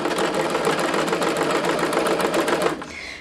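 A sewing machine fitted with an easy hemming foot runs a steady burst of fast, even stitching for under three seconds, close and loud, then stops with a soft mechanical tail.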